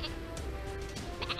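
A cartoonish sheep weapon bleats in the video game Worms W.M.D, a couple of short wavering bleats over steady game background sound, with no talk.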